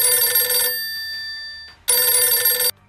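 Telephone ringback tone on an outgoing call: two loud ring bursts separated by a pause of quiet line.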